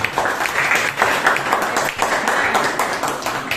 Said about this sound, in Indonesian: Tepuk tangan dulu kalian semua.